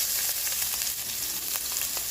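Ginger and garlic sauté in a little hot cooking oil, giving a steady, close crackling sizzle with faint pops throughout and no talking.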